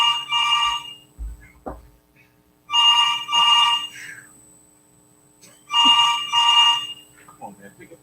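A telephone rings in three double bursts spaced a few seconds apart, clear and fairly close, with faint muttering heard between the rings.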